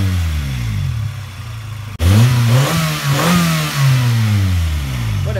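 Car engine being run after a deep clean to bake out water from the engine oil: a steady idle that cuts abruptly, then restarts into loud rising and falling revs over a sustained running drone, close and without talk.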